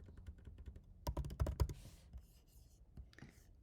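Typing on a computer keyboard while a letter-size page in landscape format is set up, with a quiet run of scattered key clicks, then a louder, dense burst of strokes midway, trailing off into a few softer taps.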